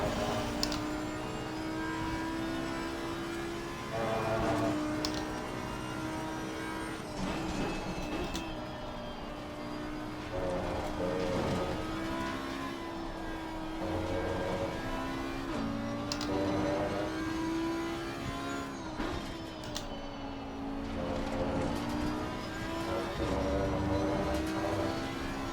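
A race car engine drives around Spa in a racing video game. It holds a steady, loud drone with pitch climbing and dropping through gear changes and no talking.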